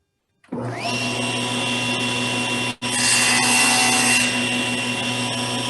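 A power saw whines steadily through segments of wood for segmented woodturning construction, running loud and continuous with one brief dip partway before resuming.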